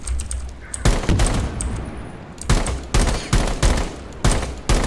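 Rapid automatic gunfire rings out in Rainbow Six Siege, with several loud, close bursts in quick succession separated by short pauses.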